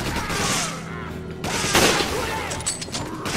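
Gunfire in the co-op shooter Resident Evil 5, a dense burst of rapid shots with booming impacts filling the clip, with faint talk underneath.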